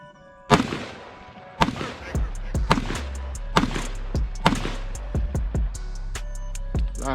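Rifle shots from a PSA AK 556 fired with PMag window magazines, about a dozen sharp cracks at an uneven pace, loud and close, the last shot ending with the bolt locking open.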